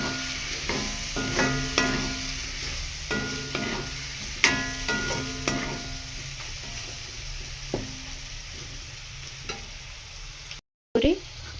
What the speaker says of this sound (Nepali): त्यसपछि एकछिन चलाइदिने।